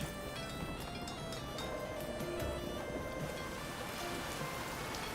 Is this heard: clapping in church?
no